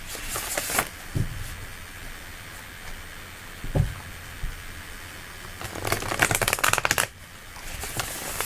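Cards being shuffled up close in repeated riffling bursts separated by quieter pauses, with a long rapid riffle near the end; no talking.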